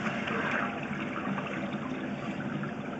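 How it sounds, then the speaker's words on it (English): Toilet flush water running down a sewer line with heavy root intrusion, a steady gushing flow that fills the pipe, continuous and close, with no talking over it. "We do have a toilet flush coming down the line as well."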